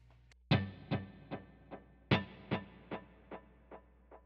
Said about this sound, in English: The wet effects I have is I have a quarter note delay.